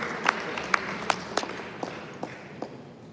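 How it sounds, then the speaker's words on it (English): Scattered audience applause at a chapter launch event for ISPAC Australia, with a few distinct claps rising over a thin, fading bed of clapping. "Please round of applause"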